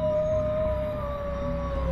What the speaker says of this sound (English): the horrific howl from which the Ozark Howler gets its name